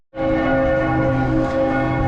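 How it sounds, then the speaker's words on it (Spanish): Church bells ring in Vienna, Austria, a loud, sustained peal of overlapping tones that fills the whole moment without a break. "cada hora están sonando las campanas, pero por 5 minutos"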